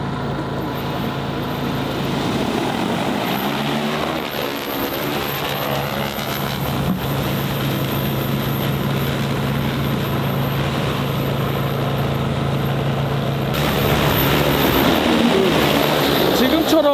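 An agricultural spraying drone's rotors hum nearby in a steady mechanical drone, loud and continuous, growing slightly louder toward the end as talking continues underneath.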